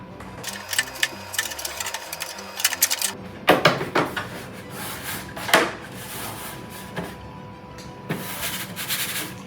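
Mechanical buzzing and rapid whirring in bursts from a high-speed 3D printer, with clicks and rattling movements between them, close by and moderately loud, no voices.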